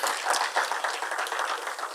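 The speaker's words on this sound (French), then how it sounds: "Est-ce qu'on peut encore applaudir pour le Seigneur?" Applause from a church congregation after a financial literacy talk, a steady dense patter of clapping throughout, moderately loud and without a break.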